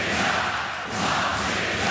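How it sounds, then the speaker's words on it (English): A basketball crowd at Arena Riga roars loudly and continuously during a EuroBasket 2025 game between Latvia and Serbia, a dense wall of cheering and shouting. "the crowd is loud in the Arena Riga"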